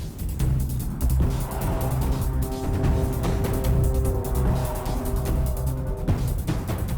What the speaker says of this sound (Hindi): रामास्वामी की गाड़ी आ गई।